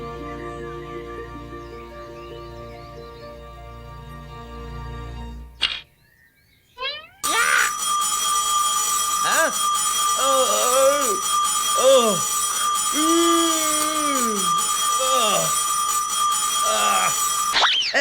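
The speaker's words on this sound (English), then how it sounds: "But ringing chases sleepy dreams away." A loud, shrill bell rings on and on to wake sleeping ants in a cartoon, continuous and bright after a short quiet gap, with a character's voice groaning and complaining over it.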